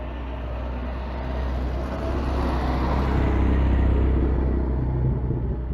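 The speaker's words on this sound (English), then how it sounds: "just wait for this classic Mini to come on down" A classic Mini rolls past in a Minis-only parking area at Bingley Hall, a steady low engine rumble that swells gradually as it nears and stays broad and moderately loud, with no talking.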